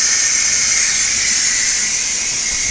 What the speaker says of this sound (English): We'll wait till 5 minutes and release the pressure.